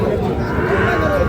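Cattle lowing at a busy cattle market selling Gir and Sahiwal calves and bulls, one sustained low moo steady and close amid crowd murmur.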